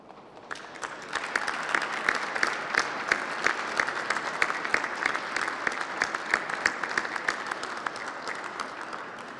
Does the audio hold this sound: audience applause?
yes